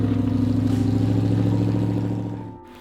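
A 1988 Land Rover 90 with a V8 engine revs loudly and steadily close by, a deep throbbing rumble that holds for about two seconds before easing off near the end, with no one talking.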